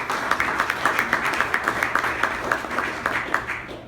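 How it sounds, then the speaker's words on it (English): Audience applause for a conference presenter, a steady wash of many hands clapping with distinct sharp claps standing out, moderately loud and continuous for the whole stretch. "a big thank you and a round of applause for Tune"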